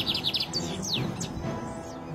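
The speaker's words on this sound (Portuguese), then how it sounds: "pássaros que insistem em ficar" Wild birds chirp and tweet in preserved trees around a Catholic mission at Caconda in Huíla, Angola, with quick bright repeated notes and a few sweeping calls over a soft outdoor background.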